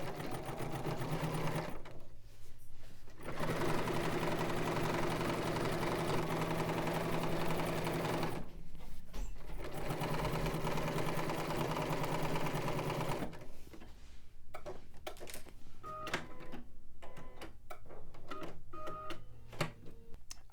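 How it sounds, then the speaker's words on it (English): A sewing machine sews a 5/8 inch seam in steady near whirring bursts, stopping briefly twice, then ending in a stretch of lighter clicking and handling noise. "Let's head over to the machine and stitch this down at 5/8 of an inch seam allowance."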